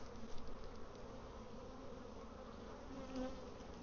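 Honeybees hum inside an open hive that may recently have swarmed, a steady dense buzz filling the whole stretch with a slight swell near the end, close and even, no voices.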